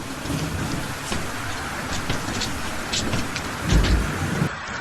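Heavy rain pours steadily and loudly on a surface, a dense continuous hiss with a low rumble of thunder rolling in near the end, no voices.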